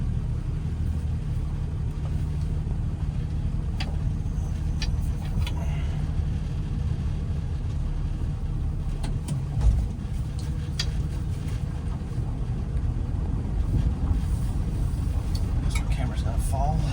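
A Plymouth Belvedere engine idles in neutral with a steady, low rumble that continues unbroken, punctuated by a few faint clicks and knocks.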